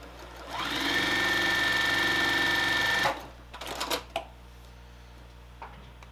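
A sewing machine stitches cotton fabric for a mini puzzle quilt in one fast, steady whir lasting about two and a half seconds, then stops, leaving a few soft handling clicks and rustles.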